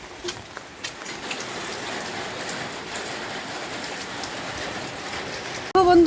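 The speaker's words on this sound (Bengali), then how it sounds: "বৃষ্টি পড়ছে বৃষ্টি।" Steady rain falling and pattering on surfaces outdoors, a dense even hiss with scattered drops, ending with a brief louder sound.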